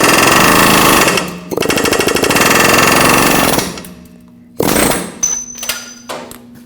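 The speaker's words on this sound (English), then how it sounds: "I'm going to take an air chisel and try to drive it out." Air chisel hammering at a lower control arm ball joint on a 2005-2021 Nissan Frontier 2WD, loud rapid pneumatic chattering in long bursts with brief pauses, then a faint hiss and hum as it stops.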